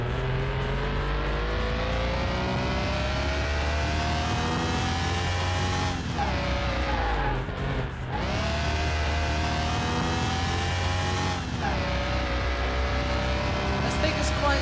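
A car in the video game Car Mechanic Simulator 2021, fitted with a limited-slip differential, revs loudly and steadily with rising engine pitch, and brief dips mark three gear shifts before it climbs again.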